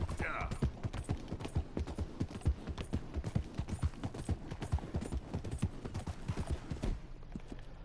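Steady, evenly paced clip-clop of a horse's hooves from Red Dead Redemption 2, riding along the tracks toward Saint Denis, close and rhythmic, ending abruptly near the close.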